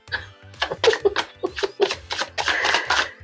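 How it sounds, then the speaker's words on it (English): A deck of tarot cards is shuffled in a series of short, crisp riffling bursts that repeat in a quick, uneven rhythm, close and clear over a low background. "Yo, I love the way these cards shuffle."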